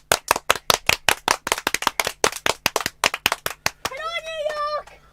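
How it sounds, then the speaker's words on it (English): An audience at a live gig in Sheffield claps in fast, loud, sharp claps that build into rapid rhythmic clapping, then a short whistle or cheer-like tone rings out near the end. "Clap, clap."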